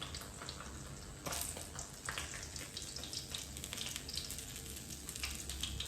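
Bangus (milkfish) fries in hot oil, giving a faint, steady sizzle broken by sharper crackles and pops.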